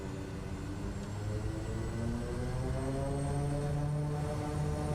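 Simulated SWS Kodiak single-engine turboprop in Microsoft Flight Simulator 2024 spooling up as the throttle advances, a steady loud engine drone with rising harmonic tones and a high whine, continuous and close.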